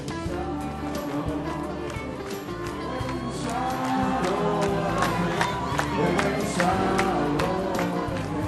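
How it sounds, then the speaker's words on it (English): At an airport arrival terminal, a dense crowd roars and cheers as bus doors open, a loud continuous wall of voices with music or noise swelling underneath and building slightly louder midway. "You may hear the roar of the crowd as the doors open."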